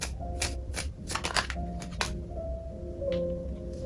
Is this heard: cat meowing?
no